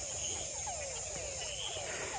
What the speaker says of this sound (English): And I still hear a ton of frogs